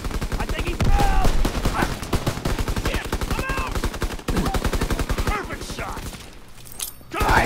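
Rapid bursts of M1 rifle gunfire during a street fight in a Call of Duty WW2 hardpoint match, loud and repeated shots with players talking over the action.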